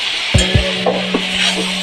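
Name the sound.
chutney ingredients frying and being stirred on low heat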